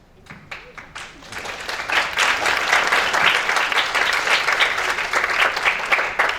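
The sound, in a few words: applause at an awards ceremony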